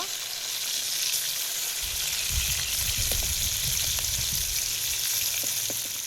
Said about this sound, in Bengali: মাছটা ভেজে নেব দিচ্ছি বড় গুলা ভেজে নেবো